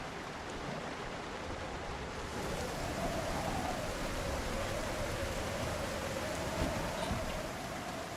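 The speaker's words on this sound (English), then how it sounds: "Not that the rain would stop us, but I hate screaming into the storm." Rain and storm ambience in a survival video game, a steady hissing downpour with a low rumbling undertone, continuous and moderately loud, swelling slightly partway through.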